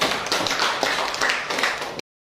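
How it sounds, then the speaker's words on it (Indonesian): Classroom of students clapping hands together, a short burst of brisk, moderately loud applause that stops abruptly after two seconds. "Tepuk tangan untuk kita semuanya."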